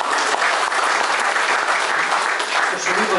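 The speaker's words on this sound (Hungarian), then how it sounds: "egy nagy tapsot kérnék szépen." Sustained audience applause at a Hungarian café-evening stage show, dense steady clapping from a crowd filling the whole stretch at even loudness.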